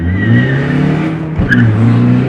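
A VW Polo TDI accelerates hard nearby, its engine loud and rising with a brief tire chirp midway, no talking.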